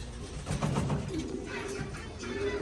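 Hungarian fancy pigeons, white and tiger-marked, make soft, low, rolling coos over a faint background hiss, heard close by for a few seconds.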